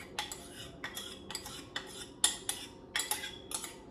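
Plum cake batter for a traditional Kerala-style Christmas fruit cake, mixed by hand in a bowl: a series of close, evenly spaced clinks and scrapes of a spoon against the bowl, with no other sounds.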